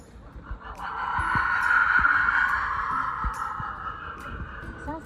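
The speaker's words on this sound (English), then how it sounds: "The dead whistle sounds like this." A death whistle blown in one long, shrill, breathy wail that rises and holds for several seconds before fading, with faint scattered knocks and background murmur beneath.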